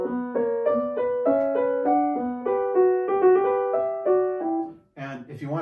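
A piano plays a Bach Allemande with quick mordent ornaments in both hands, clear, evenly paced notes sounding alone, followed by a brief voice at the end.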